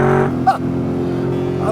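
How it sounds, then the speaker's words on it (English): Chevrolet Camaro Z28 V8 engine on a track, a steady low rumble held at constant loudness through the whole short stretch, with a brief higher blip midway. "The Z28 just has a glorious V8 rumble."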